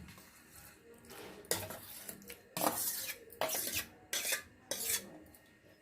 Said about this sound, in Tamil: சேர்த்து நல்லா கலந்து விட்டுக்கலாங்க.